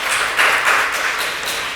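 Audience applause at a Dreher High School gathering, a short burst of steady, dense clapping from a crowd, fairly loud and close, with no talk over it.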